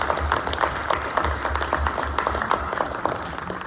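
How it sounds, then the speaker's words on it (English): Round of applause from attendees at a school district board meeting, scattered clapping in a room with a low hum underneath, fairly light and continuous. "I'd like to give Mara a round of applause"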